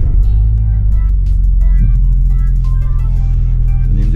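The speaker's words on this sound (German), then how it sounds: "startet ihr das Auto" A BMW F-series engine running at close range, with a deep steady idle rumble and a brief rise in pitch partway through.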